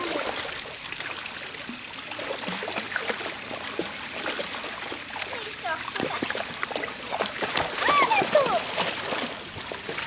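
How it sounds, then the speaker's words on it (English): Water splashing outdoors as someone is pushed into the water, with irregular splashes and sloshing under people's voices and laughter, growing louder toward the end. "Actually, push me in the water, Cabella."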